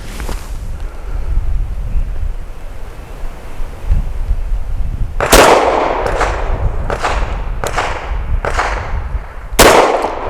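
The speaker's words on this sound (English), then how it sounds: "5 rounds of Blazer aluminum through the Grand Power K100." Five pistol shots from a Grand Power K100 firing Blazer aluminum-cased rounds outdoors, sharp loud cracks spaced unevenly over several seconds, with steady wind noise on the microphone underneath.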